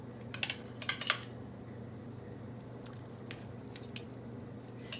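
Pork belly goes into a pot of boiling soup for Lao num mee ka tee, with a few clinking knocks of utensils against the pot early on, then a quiet simmering background.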